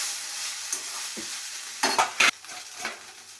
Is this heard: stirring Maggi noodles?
yes